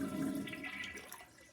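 A toilet flushing, water rushing and gurgling steadily for the whole moment, close by and moderately loud, with no voices.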